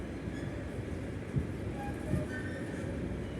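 A long train hauled by an Orlen locomotive rumbles past at a distance in a forest, steady rolling noise with a couple of faint rhythmic clunks of wheels over rail joints.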